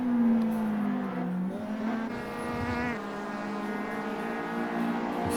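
Racing cars in the SRA GTI Challenge drive close together, engines droning and revving with shifting pitch through gear changes, loud and continuous with a faint trace of tyre noise.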